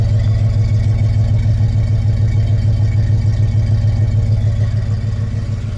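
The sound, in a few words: tow vehicle idling with aftermarket exhaust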